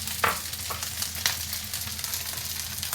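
Carrots and peas tossed into sauce-coated rice frying in a pan alongside char siu roast pork; a steady close sizzle runs throughout, with a few brief scraping clatters of the ingredients hitting the pan.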